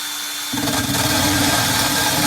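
A power drill starts up after a brief quiet moment and then runs steadily with a high, whining buzz, close and loud, cutting a hole in glass.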